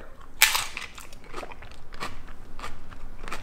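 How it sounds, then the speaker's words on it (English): A loud, crisp bite into a crunchy papadum, followed by steady crackly chewing close to the ear. "Listen for the crunch, because that's what chips are all about."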